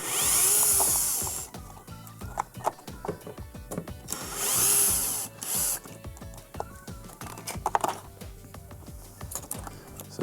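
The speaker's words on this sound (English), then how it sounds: "We're gonna go ahead and remove the Phillips screws that hold the assembly in place." A power driver backs out Phillips screws holding the dispenser assembly of a Samsung dishwasher. Two whirring bursts alternate with clattering handling and small metallic knocks close by.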